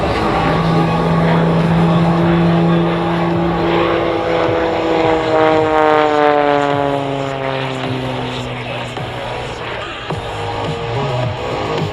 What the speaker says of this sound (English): He's going to reposition the aircraft by doing a half Cuban manoeuvre.